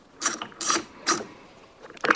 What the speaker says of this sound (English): Then just take the nut off